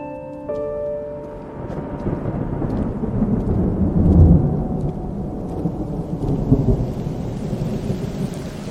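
A thunderstorm with rain: a steady wash of rainfall under long, low rolling thunder that swells to a peak midway and then fades, with a few soft musical tones at the very start.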